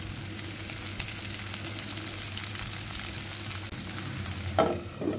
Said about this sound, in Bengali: তেলটা গরম হয়ে গেলে এখন আমি কেটে রাখা মিষ্টি কুমড়োগুলো দিয়ে দিচ্ছি।